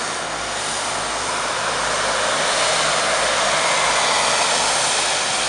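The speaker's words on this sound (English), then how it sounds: "that might even be the same plane we saw last week" An airplane at night at Montreal Trudeau airport, with a loud broad engine roar that holds steady and swells slightly as it passes close by. No talking.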